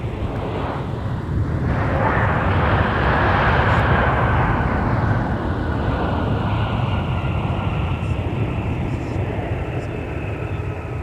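A CRJ regional jet touches down on an airport runway, a broad roaring rush that swells and then slowly fades as it rolls out, heard from a distance with no talking.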